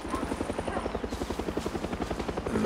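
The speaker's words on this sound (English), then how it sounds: "there's a stationary gun for you to take out the helicopter." A helicopter in the shooter game Far Cry 6 thuds with rapid, steady rotor beats, loud and close throughout.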